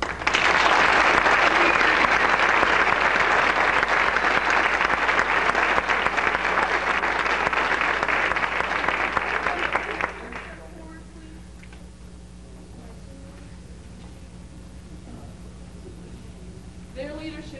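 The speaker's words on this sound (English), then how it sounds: "They deserve a very special round of applause." Loud, sustained audience applause for a school play's lighting crew fills a hall for about ten seconds, then cuts off abruptly into quiet room tone with faint stirring.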